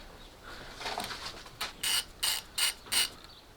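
Ratchet wrench loosening a reverse-threaded Torx T30 bolt on a BMW E46 330i Vanos unit: a few soft clicks, then four distinct bursts of rapid ratcheting, close and clear with no talking.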